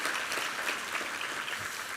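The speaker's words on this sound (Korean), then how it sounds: "한번 격려 박수 한번 부탁합니다" A church congregation gives a sustained, dense round of applause for the women's vocal ensemble during Sunday worship, steady and fairly loud throughout with no talking.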